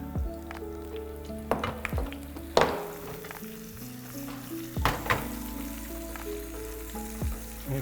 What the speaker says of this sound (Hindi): पेस्ट को भूनना है जी हल्का सा,